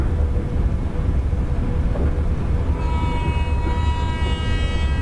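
Train air brakes hiss in the MSTS train simulator game, playing the 12669 Ganga Kaveri Express: a loud, steady rushing hiss over low rumble, with a thin whistling tone joining partway through, no voices.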